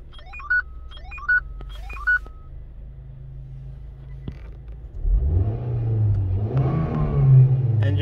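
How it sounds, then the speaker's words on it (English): Several electronic beeps, then a Renault Scenic engine cranks and catches, revving briefly before settling into a steady idle. "Engine sounds very smooth and very healthy."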